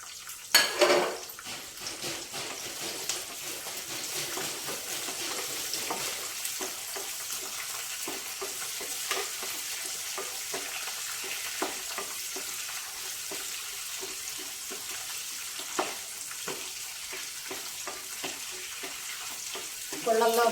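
Urad dal, mustard seeds, green chilies, curry leaves and dried red chilies frying in hot oil in a pan, a steady close sizzle broken by scattered crackles and spatula stirring scrapes.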